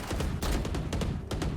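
A competitive shooter video game match delivers a rapid string of sharp gunshots, several distinct cracks spaced unevenly across a short burst, loud and close with no talk.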